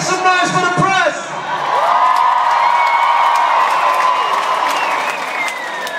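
A large crowd at a concert cheers, whoops and applauds loudly, a dense sustained roar with a few shouted voices rising above it, following a brief spoken call from the stage.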